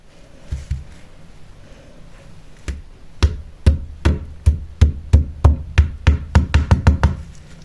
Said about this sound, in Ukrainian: Ну що, якщо по льоду стукнуть?